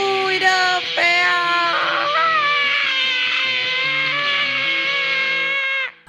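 A voice imitates heavy metal music with a harsh, strained, screeching vocal burst that holds for about six seconds, close and loud, alone.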